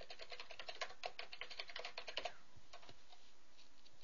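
Password being typed on a computer keyboard while setting up a digital ID, with quick, irregular keystroke clicks for about two seconds, then a few scattered taps fading out; close and clear, with no talking.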